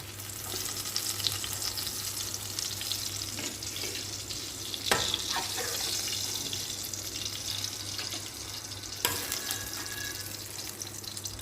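Pointed gourd (potol) slices fry in a pan with a steady, close sizzle and bubbling, broken by a few clatters of a utensil stirring and scraping.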